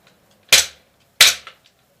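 Two sharp rifle gunshots about three-quarters of a second apart, fired from a rifle fitted with a Samson Manufacturing Field Survivor setup, loud and close with short decaying tails, followed by a faint metallic clack.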